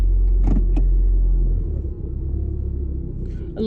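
Cabin of a moving car: a strong, steady low road rumble that shifts partway through, with a few faint clicks and taps above it.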